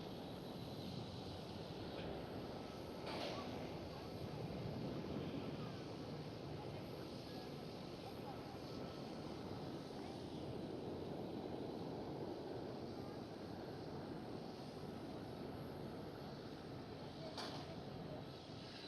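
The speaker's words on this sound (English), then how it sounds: "There goes the one who just started up, taxiing out right now." An airliner taxis out at Schiphol Airport, its engines giving a steady, continuous broadband rumble that holds at an even level throughout, heard from some distance with no voices.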